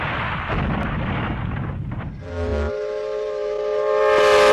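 A cartoon train crash sound effect from a Thomas the Tank Engine parody, with a loud rumbling roar and impact that cuts into a sustained, rising whistle-like drone.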